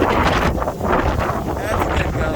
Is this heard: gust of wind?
yes